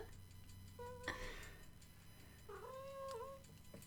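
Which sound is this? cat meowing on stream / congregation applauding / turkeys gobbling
cat meowing on stream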